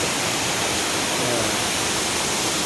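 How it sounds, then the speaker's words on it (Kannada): Deep waterfall roaring steadily and close, a dense unbroken rush of falling water with no voices over it. "ಇದು ಒಂದು ಫಾಲ್ಸು."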